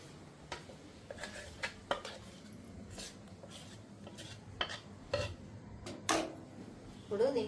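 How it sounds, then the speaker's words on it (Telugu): Ground batter is scraped from a mixer jar into a bowl with a spoon, producing soft scattered clinks and scrapes of metal on metal, quiet and irregular, with occasional faint background noise. "మిక్సీ పట్టుకున్నాం కదా, ఇది బౌల్లోకి తీసుకుంటున్నా"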